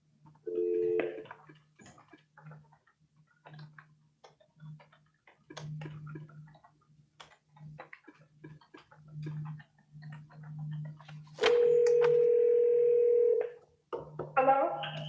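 On a meeting-room speakerphone, a telephone handles a callback: soft ticking and short dialing beeps, then a steady dial tone holds for about two seconds before more quick dialing tones.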